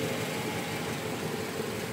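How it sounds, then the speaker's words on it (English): Triumph TR3A fitted with a Toyota 3SGE engine idles in a steady, faint, even rumble, close by and alone with no voices. "Like I say, it's just been sitting here idling."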